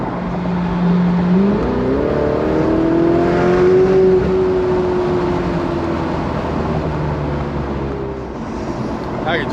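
A Ferrari 488 Spider engine pulls steadily while driving on open roads, its tone rising in pitch then holding, loud and continuous with wind and road noise, as people talk over it.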